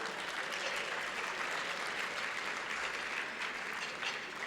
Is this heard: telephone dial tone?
no